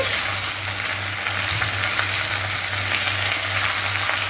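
Gongura leaves being stirred with turmeric and salt in a hot pan, giving a dense, continuous close-up sizzle of frying with soft stirring movement throughout and no voices.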